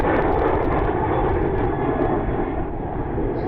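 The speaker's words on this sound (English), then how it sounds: "Delta Airlines Flight 2348, 737," A Delta Airlines Boeing 737 jet airliner departs Louisville Muhammad Ali airport, its engines a loud, steady roar that fills the whole stretch without any talk.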